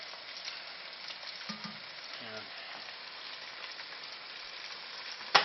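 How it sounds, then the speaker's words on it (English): Noodles pan-frying in an Asian-style stir-fry make a soft, steady sizzle that runs evenly throughout, with a faint brief tonal noise near the middle and a sharp click at the end. "for most of our noodles, we want to give them a little bit of a pan fry"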